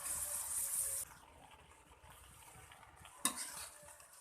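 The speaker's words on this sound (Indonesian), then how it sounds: "Kita aduk supaya pepaya dan bumbu bisa tercampur dengan baik." Boiled papaya and spice paste are stirred in a pan, with soft scraping and a faint sizzle under a hiss, then a single sharp clank of the utensil against the pan near the end.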